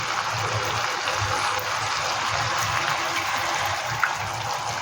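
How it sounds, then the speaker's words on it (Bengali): Water pours steadily into a pan of rui fish curry cooking with sesame, a continuous close gushing splash with a faint low simmering rumble beneath and one small knock near the end. "জল দিয়ে দেবো, জলটা আর একটু লাগবে"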